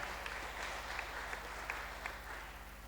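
A church congregation claps and cheers in praise of Jesus, a continuous mass of applause heard faint and somewhat distant, with occasional brighter shouts rising above it.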